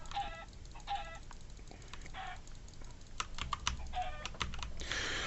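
A chicken clucks in a video game in short repeated bursts over quiet background sound, followed by a run of rapid, close keyboard typing.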